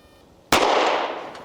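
A single sharp gunshot from an HK CC9 pistol cracks loudly at close range and is followed by a long fading echo.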